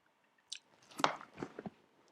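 Someone bites and chews an ice lolly close to the mic, a few separate crunchy bites and squishy chews in quick succession, then quiet.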